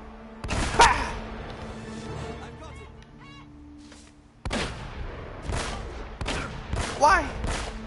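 Gunfire in the video game Uncharted: Drake's Fortune, with loud bursts of shots that start and stop abruptly in separate volleys, each followed by a quieter stretch of game ambience.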